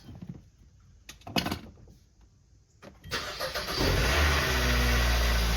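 A Hyundai car's engine starting after sitting idle during a vacation: a few faint clicks and thumps, then the engine cranks and catches into a loud, steady running roar.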